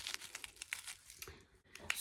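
Small plastic bag from a beauty advent calendar crinkles in rapid bursts and then tears open, close and fairly quiet, with no talking.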